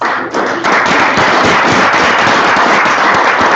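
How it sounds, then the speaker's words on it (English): Continuous loud applause from a community police liaison committee meeting audience, steady dense clapping for several seconds without speech. "just give them a round of applause"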